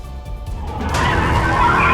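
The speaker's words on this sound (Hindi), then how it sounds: "कार घिसटते हुए रॉन्ग साइड से आई और बाइक को टक्कर मार दी" A car on the wrong side of a highway skids, starting with a short engine rumble and building into a loud, sustained tire scrape and squeal that grows and holds near the listener.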